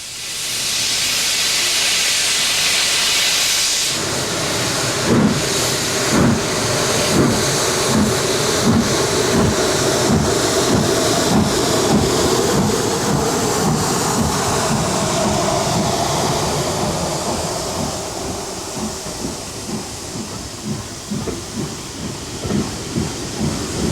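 A steam locomotive on a heritage railway, an LNER engine lent to the East Somerset Railway at Cranmore, heading east. A loud hiss of steam gives way to rhythmic exhaust chuffs that gradually recede into the distance.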